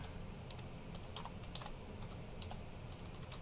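Rapid, uneven keystrokes on a computer keyboard as a new password is typed, close-up clicks scattered over a steady low background hum with no talking.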